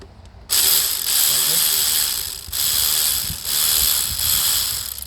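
A ratchet with a 7 mm socket backs out a bolt on a 2008 Citroën Nemo van, a loud, rapid clicking buzz in three long pulls separated by brief pauses, very close to the microphone.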